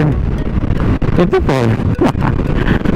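Strong wind buffets a small boat on open water, a loud continuous roar and microphone rumble throughout, with people talking over it.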